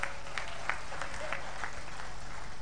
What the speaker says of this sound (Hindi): आपने मेरे स्वागत में जो घनघोर तालियां बजाई